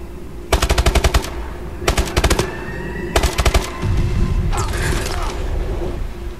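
Rapid bursts of automatic gunfire from the video game Call of Duty: Advanced Warfare, multiplayer map Defender, come in three short volleys, then a steadier mechanical noise follows, loud and close.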